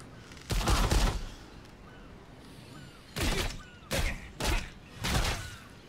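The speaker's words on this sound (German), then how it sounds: "Das sind Kanonen." Cannon fire in the video game Lost Ark, five heavy booming blasts spread unevenly, one early and a tight cluster of four later, loud and close over quiet game ambience.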